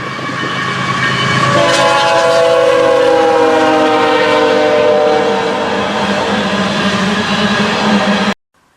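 A Union Pacific train passes close and loud, its heavy rumble and rolling wheel noise steady throughout, with sustained horn tones layered over the top before the sound cuts off abruptly.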